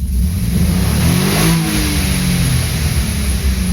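A BMW E36 engine with a factory rev limiter near 6,800 RPM is floored and revs hard. Its loud, rising roar sweeps up fast and then holds against the limiter, close by with no talk.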